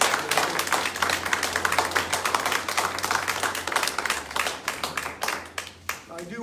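An audience claps for young gun-safety speakers at a Parkland anniversary event, a dense run of close, sharp hand claps that tapers off near the end.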